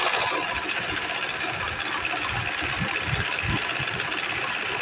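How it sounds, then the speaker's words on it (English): A Brother sewing machine running steadily as it sews, a continuous mechanical whirr with rapid needle chatter, close and fairly loud throughout, no voices. "So you go to the machine, then we sew"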